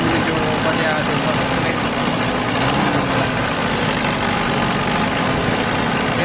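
Engine running rough and misfiring after glow plug replacement, with a suspected faulty injection pump, heard as a loud, steady, close idle rumble that continues throughout, with voices talking faintly over it.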